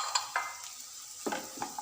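Chopped capsicum is stirred in a frying pan for an egg roast, with a few short scraping strokes and a soft sizzle beneath, close and fairly quiet with gaps between the movements.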